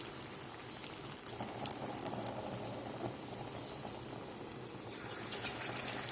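Palm fruit fritter batter sizzles in hot oil over a gas flame, a steady crackling hiss with small pops, close and fairly quiet throughout.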